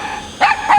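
Dog barks twice in quick succession, close and fairly loud, short sharp yips with a low rumble just after.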